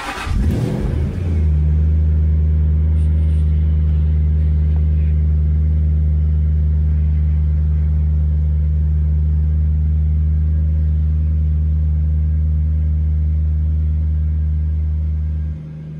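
A Jaguar XK8/XKR car engine idles at high, steady revs with a deep, continuous rumble that holds unchanged for a long stretch before cutting out at the end.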